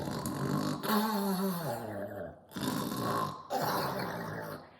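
A voice imitates snoring with drawn-out, rumbling breaths, three long snores separated by short pauses, close and fairly loud.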